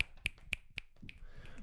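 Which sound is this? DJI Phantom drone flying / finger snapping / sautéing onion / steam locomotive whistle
finger snapping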